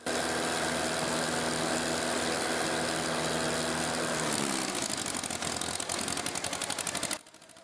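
Home-built 65 hp stump grinder engine running steadily and loudly with the cutter wheel not engaged, its tone shifting midway before cutting out abruptly near the end.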